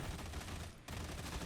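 Sustained automatic gunfire from a psyker's gun in Warhammer 40k: Darktide, a dense continuous rattle of rapid shots with a brief gap near the middle, loud and close.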